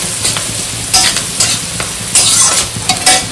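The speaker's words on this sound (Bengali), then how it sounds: "হলুদ দিয়ে একটুখানি নাড়াচাড়া করে নেবো।" A spoon stirs turmeric into potatoes frying in a pan for a flattened-rice pulao. Close, steady sizzling is punctuated by several sharp scraping strokes against the metal at irregular intervals.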